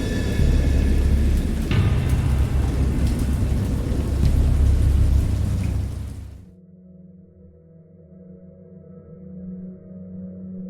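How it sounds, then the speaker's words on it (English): Heavy rain pours loudly in a thunderstorm in the game Dagon, with deep rumbling thunder, then it cuts off abruptly at about six seconds, leaving a low, quieter tonal drone. "I heard pearls of thunder and other tones which nature utters only in her wildest moods"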